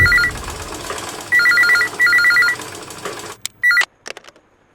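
A landline telephone rings in bursts of repeated trilling electronic tones, three distinct ring bursts standing out loudly over a busy background, followed by a short final ring and a quieter tail.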